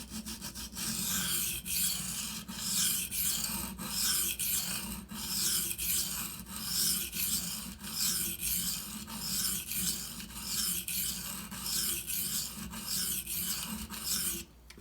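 A Benchmade Anthem knife is drawn across a coarse Shapton Pro 120 sharpening stone in steady, rhythmic rasping strokes, each about a second long, close and even throughout with no talking.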